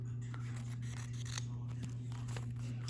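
Scissors making a small trim down the side of a page while setting up a 2023 Hobonichi Weeks planner, heard as a few quiet close snips over a steady low hum.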